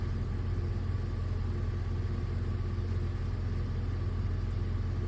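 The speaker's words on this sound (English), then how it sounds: "No, it's not an EV. You can hear the fucking engine." A gasoline car engine idles steadily, a continuous low rumble with a mid-range hum that stays even and close throughout, with no voices.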